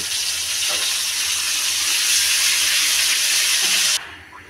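Lentils hitting hot oil with fried garlic and onion: a loud, dense, continuous sizzle that roars close up for about four seconds, then cuts off abruptly to a faint quiet, with no talking.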